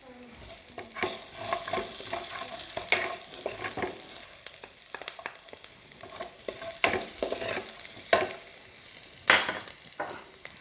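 Garlic frying in leftover oil in a pan for a sauce, a steady close sizzle broken by scraping stir strokes and occasional louder clacks, with no one speaking.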